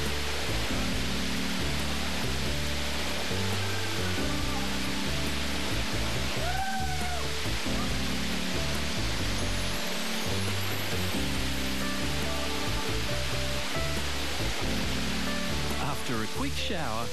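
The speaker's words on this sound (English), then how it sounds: "what could be better than a nice, cool green glade with a waterfall?" A waterfall in a cool green glade pours with a steady, dense rushing hiss that never lets up, under a layer of background music.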